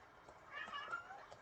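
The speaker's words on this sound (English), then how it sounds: "Sorry, that's my cat." Domestic cat meowing faintly, a short, drawn-out wavering cry in a quiet room, brief and soft.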